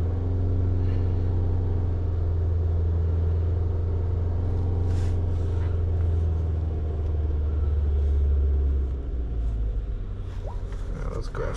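Engine of a 2007 Toyota Camry with an intermittent stalling fault and an aftermarket MAF sensor, heard from inside as it picks up speed: a steady, loud low rumble that swells slightly, with a voice talking over it.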